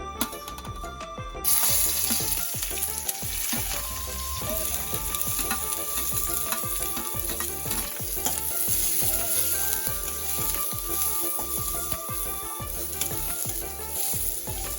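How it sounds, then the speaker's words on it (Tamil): Onions fry in hot oil in a kadai for curd chicken, giving a loud, dense, continuous sizzle with rhythmic stirring clinks and scrapes throughout. "எண்ணெய் ஊற்றி வச்சுருக்கேன் கடாயில். இப்போ வெங்காயம் போட்டு ஃப்ரை பண்ணிக்கலாம்."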